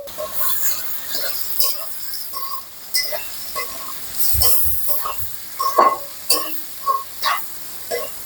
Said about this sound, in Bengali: চিংড়িটাকে ভালো করে নেড়ে নিচ্ছি।